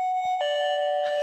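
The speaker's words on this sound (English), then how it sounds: "I thought it looked cool, but it's a doorbell." A small toy doorbell from a gacha capsule machine chimes close to the microphone, a steady electronic ding tone that shifts into a second, brighter note and keeps ringing without a break.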